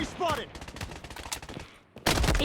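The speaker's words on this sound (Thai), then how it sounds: "ยิงกันมันจัด" Gunfire in the shooter game Blood Strike: rapid automatic bursts crackle steadily, then a loud new volley at the end, with a player's voice briefly at the start.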